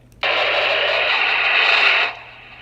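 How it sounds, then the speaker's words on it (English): A sudden burst of loud, steady walkie-talkie radio static hisses for about two seconds, then cuts off abruptly, leaving a low hum. "it'll just produce that static that you hear"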